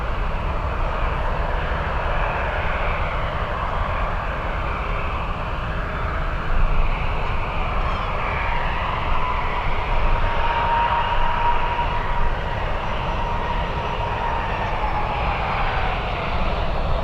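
Steady roar of Alaska Airlines jet engines at San Francisco airport, a continuous broadband rumble with a faint high whine, sustained and fairly distant, with no talk.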